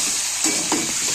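Meat frying in oil in a pot, stirred with a utensil that scrapes and catches on the sticky pan bottom, giving two or three close scraping strokes over a steady sizzle.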